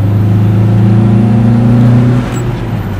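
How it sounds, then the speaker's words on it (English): A Nissan 240 engine revs hard toward redline, with a loud steady droning harmonic whine that holds and climbs, then drops away near the end as the throttle eases. "Redline this bitch."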